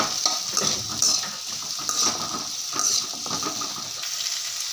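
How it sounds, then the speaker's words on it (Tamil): Chopped onions sizzle in hot oil in a pan while being stirred, with steady frying crackle and intermittent scraping of the utensil against the metal, no voices. "எண்ணெயில் வெங்காயத்தை எல்லாத்தையும் போட்டு"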